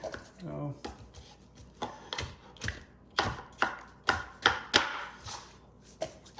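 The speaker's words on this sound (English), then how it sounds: "go to the green pepper. Cut down on the sides. I'm kind of cutting down like this" Knife slicing down the sides of a green pepper on a cutting board, giving a series of sharp, irregular chops and taps, close and moderately loud, with a faint voice early on.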